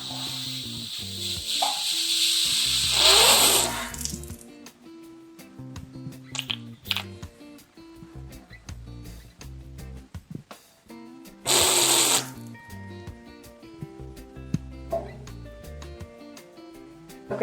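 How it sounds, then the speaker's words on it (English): Air hissing out of a radiator bleed valve in a Milan apartment, heard as two strong bursts of hiss, one long at the start and a shorter one later, over quiet background music. "open this little valve to let the excess air out and wait until water starts coming out"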